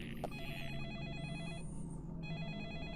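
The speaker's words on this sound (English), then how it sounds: "The phone is ringing." A telephone rings in the video game Deadly Premonition, a warbling electronic trill repeating steadily over a low ambient game soundtrack, with no talking.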